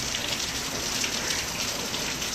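Steady rain pours down outdoors in a continuous, even hiss with no pauses, close and fairly loud, with no voices over it.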